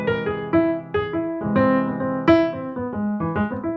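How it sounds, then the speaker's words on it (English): An augmented major seventh chord played on a keyboard, struck several times in a row as separate clean piano-like chords with ringing sustain, close and clear with no talking. "let's jump to the augmented major 7th chord first,"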